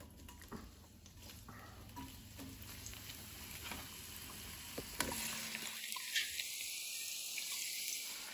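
Onions tossed into hot high-smoke-point oil for vegan French onion soup, settling into a steady crackling sizzle over medium heat, with a louder hiss swelling after the drop and faint clinks of stirring.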